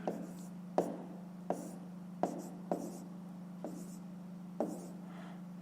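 A pen scratches on paper while a maths exercise is worked through, with separate short strokes at an uneven rhythm over a steady low hum. The writing is close and fairly quiet.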